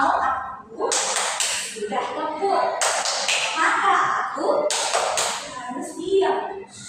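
Schoolchildren in a classroom do a 'tepuk diam' clap chant, with several bursts of sharp group clapping between spoken and chanted lines.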